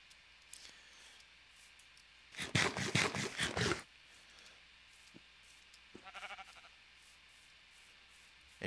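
A sheep bleats in a video game, with one loud wavering bleat in the middle and a fainter, shorter bleat a few seconds later over a quiet background.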